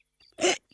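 A single short, abrupt hiccup from a cartoon lion, a quick breathy vocal burst against near silence.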